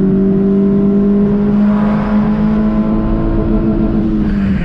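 A Chevrolet Celta with an aftermarket exhaust revs loudly and steadily close by, the engine note holding a strong droning tone through the whole stretch with no talk over it.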